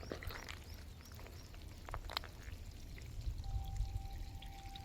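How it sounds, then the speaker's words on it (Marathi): Tidal water rushing into a creek channel at high tide on a coast where crabs are caught, a steady low rushing and pouring flow with a faint tone near the end, no talk. "कानलामध्ये चढते पाणी. केवढं फास्ट चढते बघा मित्रांनो."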